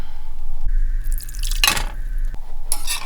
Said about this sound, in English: we're going to add our lime juice, about 2/3 of a cup